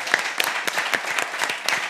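A quiz show audience applauds a contestant, with even, fairly brisk claps repeated steadily throughout a short burst at moderate level.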